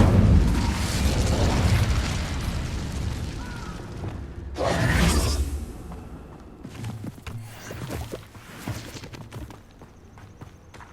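Incendio fire spell cast in Hogwarts Legacy during Percival Rackham's trial in the Map Chamber, a roaring burst of flame swelling over several seconds before dying into scattered crackles and clunks, with no voices.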